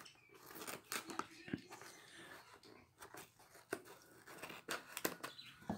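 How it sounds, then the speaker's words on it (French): Small scissors snip open a cardboard parcel of comic books, giving quiet, close, irregular crisp cuts and crinkles, with a few sharper snaps and rustling between them. "J'ai mes petits ciseaux, on va couper là."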